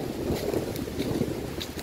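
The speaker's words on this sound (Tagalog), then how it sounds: "Isa lang ko yung malakas ang hangin dito." A strong outdoor wind gusts during a typhoon, buffeting the microphone with a continuous low rumble and intermittent rushing bursts, close and fairly loud, with no talk.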